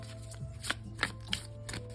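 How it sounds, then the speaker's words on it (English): Oracle and tarot cards being shuffled by hand: a few soft riffling and tapping bursts, faint and close, over a steady low hum, with no talk. "A few more shuffles"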